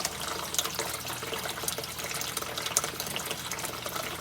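Water drains from an aquaponics grow bed through an external siphon pipe, a steady close gushing trickle with small bubbling splashes that runs continuously without talk.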